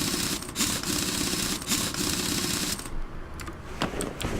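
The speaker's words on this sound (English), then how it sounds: "And put our wheel back on." Rapid mechanical clicking bursts in Car Mechanic Simulator 2018 as a car wheel is fitted back on, repeated ratchet-like tool sounds in quick clusters followed by a few isolated clacks, heard without talk.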